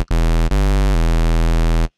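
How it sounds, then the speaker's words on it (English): Loud, steady rectangle-wave drone from the ES M synthesizer oscillator, hollow and buzzy, held for about two seconds with a short break and a small change in timbre partway through. "we get a rectangle wave."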